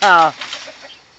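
A hen being caught gives one loud, harsh squawk up close, then rustling and faint scuffling noises follow.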